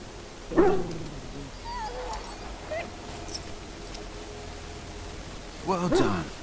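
A sick dog in the video game Dragon Age gives two short yelping barks and a faint whimper, several seconds apart, over a low ambient hum.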